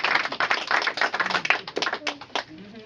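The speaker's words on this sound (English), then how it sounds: "So yeah, big round of applause." A small audience at a magic show in a magic shop clapping, a short burst of quick, close hand claps that thins out and stops within about three seconds.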